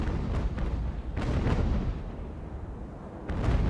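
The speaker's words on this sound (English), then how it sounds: "We might get a double broadside here if we time this right" Ship cannons fire a broadside in the naval sailing video game Ultimate Admiral: Age of Sail, a rumbling series of deep booms rolling one into another, with sharper reports at the start and near the end.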